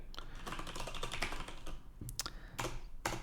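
Steady typing of code on a computer keyboard in Visual Studio 2019, a close run of quick key clicks with a few sharper taps near the end.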